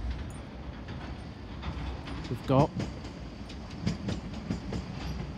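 An East Midlands Railway class 170 diesel unit arrives at platform 1A in Peterborough, its rumble and wheel clatter fairly distant and low, with a short squeal and a voice speaking over it.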